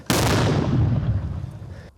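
A single loud, booming 120 mm mortar shot bursts out suddenly and rumbles away over about two seconds, close and heavy.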